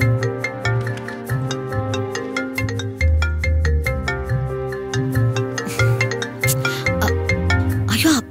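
Phone ringtone for an incoming call in a Tamil TV serial, a bright, repeating melodic jingle playing loudly and steadily for several seconds over a musical background.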